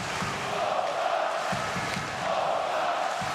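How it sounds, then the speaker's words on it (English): Polish fans in a crowd at a Poland versus France ice hockey world championship game in Ostrava, with a steady roar of cheering and chanting that swells in waves across the arena. "Renewed life from the Polish crowd"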